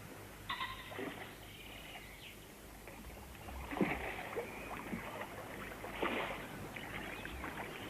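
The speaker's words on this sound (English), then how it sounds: "Plop go the oars into the water." Oars dip and splash softly in calm water a few times, with faint birdsong and a gentle outdoor hush around them.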